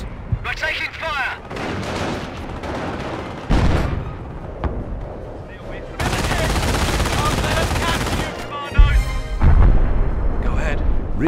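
Sustained gunfire and artillery blasts from the WWII strategy game Company of Heroes: Opposing Fronts, loud bursts and rattling volleys that swell into a dense, continuous barrage with sharp explosions near the end, under radio-style voice chatter.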